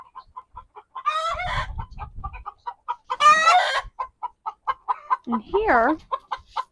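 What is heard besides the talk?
chickens clucking in coop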